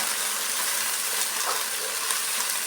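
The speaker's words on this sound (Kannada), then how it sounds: "ಆಯಿಲಲ್ಲಿ ಚೆನ್ನಾಗಿ ಫ್ರೈ ಮಾಡ್ಕೊಂಡ್ಬಿಡಬೇಕು ಈ ಪುದೀನ ಸೊಪ್ಪನ್ನ" Mint leaves frying in oil give a steady, fairly faint hiss that runs evenly throughout, close by, with no voices.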